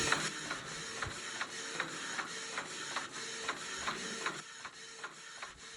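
A printer works through a page, its mechanism whirring steadily while soft regular clicks and shuffles repeat about twice a second, moderately close and with no talk.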